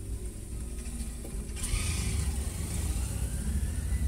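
Honda Civic G8 accelerating from a start, a steady mid-pitched engine drone that swells slightly louder as it pulls away, heard from inside the car with no talking.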